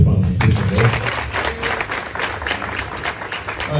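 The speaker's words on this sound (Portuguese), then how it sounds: "Agora eu peço uma salva de palmas, por favor." A crowd at a Portuguese-language event gives a round of applause for a singer. Dense clapping fills the whole stretch at a strong level, with some low voices murmuring underneath.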